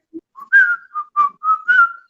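A person whistles a short melodic phrase of a Lion King song, clear and close, a run of sustained tonal notes with brief gaps and no other sound.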